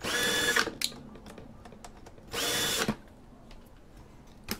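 A power screwdriver drives Torx screws inside an Apple iMac A1225 in two whirring bursts of about half a second each. Small clicks and handling noises fall between them.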